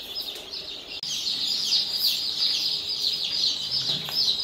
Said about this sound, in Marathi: आता आपण इन्क्युबेटरमधनं ही पिल्ली आपण बाहेर काढतोय.